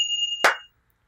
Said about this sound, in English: manjira and hand clap